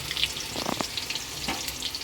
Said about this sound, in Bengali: পেঁয়াজ ভেজে নেব হালকা বাদামি কালার করে